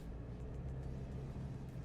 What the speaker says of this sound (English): it's like a nice muted hum. That is surprising in a turbo diesel truck.